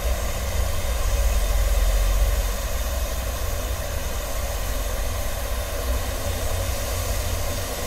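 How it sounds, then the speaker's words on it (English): Water hissing steadily as it heats toward a boil, a continuous broadband rush with a low rumble underneath, fairly loud and even throughout, with no talking. "So the hiss sound is increasing now"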